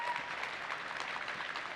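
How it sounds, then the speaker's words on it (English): Conference audience applauding during a product keynote, a steady dense wash of clapping from a large crowd, fairly distant and even throughout. "Or they were applauding when they saw the Admin Center."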